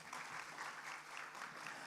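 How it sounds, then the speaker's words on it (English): Conference audience applause, a steady, fairly faint patter of many hands clapping throughout a short stretch. "Ladies and please give a round of applause."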